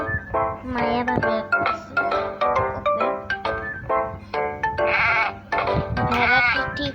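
Sheep bleating repeatedly up close, a run of loud wavering bleats in quick succession with short gaps, filling the whole stretch without talk over it.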